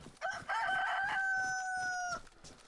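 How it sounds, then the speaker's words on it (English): A rooster crows once in the video game DayZ, a loud, close, drawn-out cock-a-doodle-doo heard alone without talk. "Hello, rooster. Cockerel, I think you're actually called."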